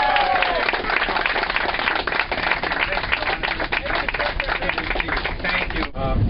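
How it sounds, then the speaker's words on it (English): A crowd applauds a train conductor on his last run before retirement, steady dense clapping at close range that continues for several seconds before a voice briefly cuts in at the end. "let's give John a round of applause for his many wonderful years of service"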